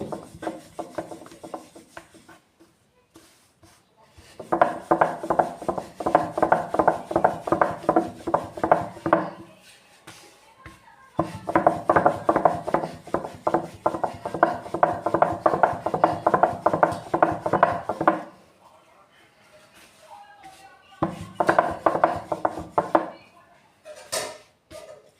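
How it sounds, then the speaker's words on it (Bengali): A rolling pin presses and rubs dough flat for egg roll flatbread, making rhythmic scraping strokes in three long bursts separated by pauses, close and fairly loud. "একটুখানি মোটা মোটা করে রুটিটা করবো, সেই জন্য একটু বড়ো করে লেচিটা কেটে নিয়েছি। এবার আমি এটাকে বেলে নেব।"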